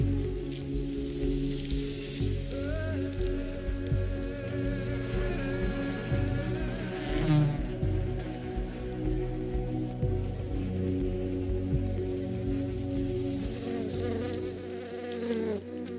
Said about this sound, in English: Those little green things are actually bees